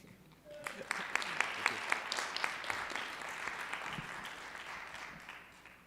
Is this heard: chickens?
no